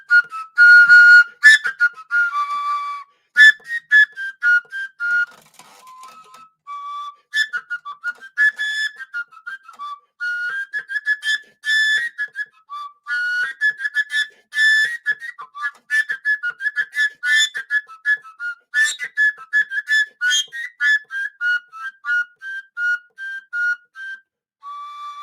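A folk wind instrument with no finger holes, blown and fingered to shift pitch, plays a long run of bright whistling notes in quick rhythmic phrases with short pauses, close and fairly loud, alone without talk.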